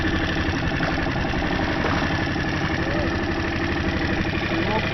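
An engine runs steadily throughout, a dense continuous drone with a fairly loud, even level and no breaks.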